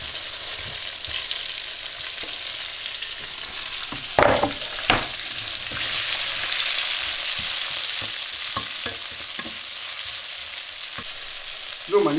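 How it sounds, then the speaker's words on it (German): Onions fry in a pan with a continuous bright hiss and sizzle, punctuated by occasional scraping taps from stirring, close and with no talking. "So, ich brate mir jetzt eben schnell meine Zwiebeln an."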